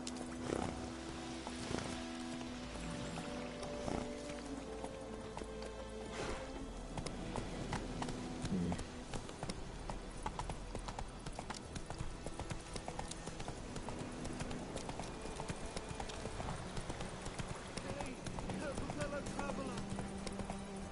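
The horse Roach in The Witcher 3 trots along with steady rhythmic clip-clop hoofbeats lasting throughout, close and fairly quiet beneath game music and occasional talking.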